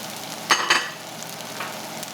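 Egg being stirred into bacon kimchi fried rice in a hot pan, with a steady sizzle throughout and two quick scraping stirs standing out near the start.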